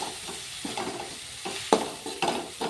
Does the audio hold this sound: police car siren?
no